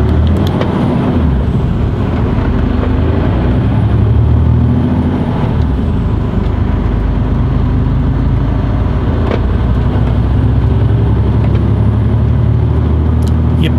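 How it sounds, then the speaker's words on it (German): A long heavy truck rolls past on a road, a steady loud low rumble of engine and tyres lasting throughout, with brief hissing bursts that fit air brakes partway through. "Komm, Lang-LKW, fahr zu."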